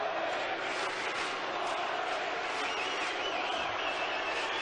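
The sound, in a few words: tennis crowd chanting for Boris and booing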